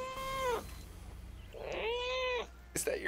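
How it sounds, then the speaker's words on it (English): A house cat meows twice close to a webcam microphone during an online game voice chat, two drawn-out calls separated by a pause, with a brief clatter at the end. "Is that your cat?"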